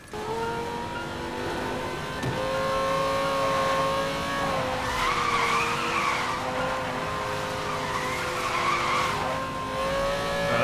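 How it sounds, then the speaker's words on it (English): A Lamborghini Gallardo drifts in the video game Need for Speed Most Wanted (2012), its tires squealing and skidding in a continuous loud sweep over a steady engine drone, with no talk. "Maintain the speed through the drift."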